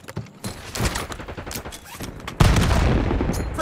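Rapid gunfire bursts from a Call of Duty battle, sharp cracks and a sustained loud volley near the end, with sniper fire among the shots.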